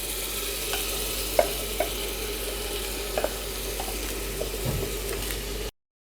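Rice being fried in a pan with two chillies, a few cashews and cinnamon pieces gives a steady, close sizzle and bubbling throughout, with a few light stirring clicks and taps, no voices.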